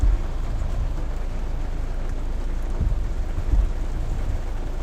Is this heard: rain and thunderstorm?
yes